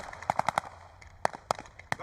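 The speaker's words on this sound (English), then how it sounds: "Even the firepower from those heavy machine guns on 251 didn't help there." Heavy machine guns on a 251 half-track firing during a tank battle reenactment at Tankfest 2025, a quick burst of rapid shots followed by spaced single cracks, sharp and moderately distant.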